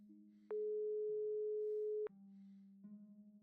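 A telephone call being placed produces a steady electronic tone held for about one and a half seconds between lower humming tones, clear and isolated with no voices.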